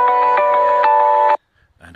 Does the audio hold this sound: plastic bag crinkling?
no